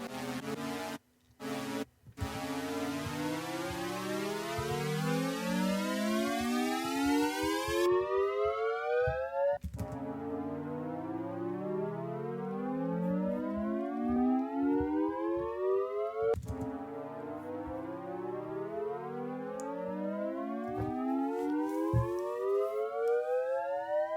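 A long synth riser built from Logic Pro stock plugins for a dubstep track, with rising, siren-like sweeps that climb steadily, reset, and climb again three times, with sharp hits cutting in near the start.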